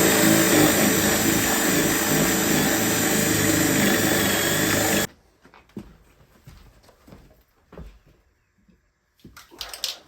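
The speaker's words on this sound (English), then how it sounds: "Now we're just gonna drill a hole right here for the birds." A power drill bores a hole into a wooden A-frame birdhouse, a loud steady whine and grind for about five seconds, then stops abruptly, leaving quiet handling clatter.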